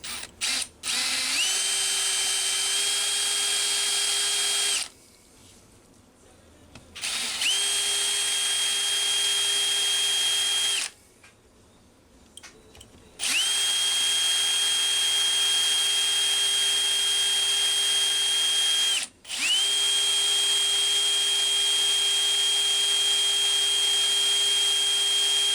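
A power drill runs steadily in long bursts while drilling out a broken intake manifold screw on a Homelite Super XL-925 chainsaw, stopping briefly between passes, loud and close with no talk.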